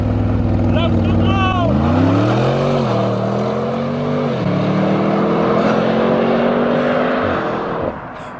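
Audi RS7 with 600 HP on winter tyres accelerating hard, its engine note rising steeply through successive gear shifts with brief dips between them, loud and close from inside the car before easing off at the end.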